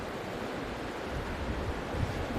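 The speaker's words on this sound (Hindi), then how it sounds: "ये पानी है जनाब इस तरफ।" Rushing water of the Kunhar River near a bridge in the Naran valley, Pakistan, a dense continuous roar with no distinct splashes, steady and fairly loud throughout.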